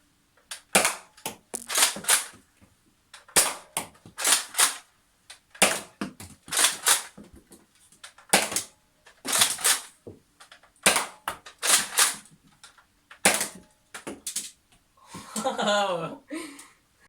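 An X-Shot Chaos Meteor toy blaster loaded with balls fires in quick clusters of sharp, close pops, repeating about every second or two with short pauses between bursts.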